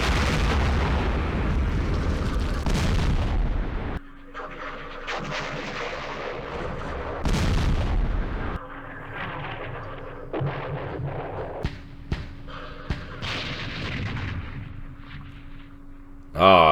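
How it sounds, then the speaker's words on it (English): Artillery shells strike in the Campaign Series Vietnam war game, sounding as heavy booming rumbles and sharp blasts in irregular bursts, with quieter stretches of low hum between impacts. "Artillery hitting."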